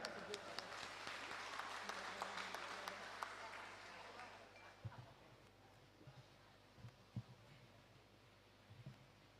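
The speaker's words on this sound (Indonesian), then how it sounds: "Tepuk tangan." Audience applause at the opening ceremony of a provincial vocational high school student skills competition in West Sumatra, a dense wash of clapping for about four seconds that fades into a quiet hall with scattered low thumps.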